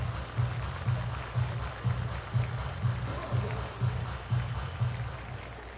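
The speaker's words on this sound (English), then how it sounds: "Everybody clap your hands." Crowd at a Lehigh Valley IronPigs versus Columbus Clippers minor league baseball game clapping in a steady rhythmic beat, about twelve even claps under continuous stadium crowd murmur.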